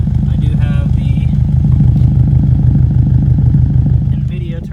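A 2006 Subaru WRX at COBB Stage 2 with a turbo-back exhaust and catless downpipe, idling with a loud, steady, throbbing boxer rumble close by, while a person talks over it.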